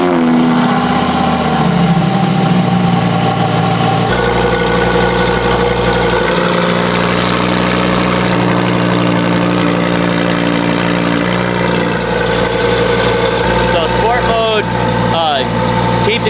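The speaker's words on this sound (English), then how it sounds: "We gave it its first startup. Sounds really good." A car with a Capristo exhaust starts and settles into a loud, steady idle close by, with a deep rumble and occasional blips. People talk over it now and then.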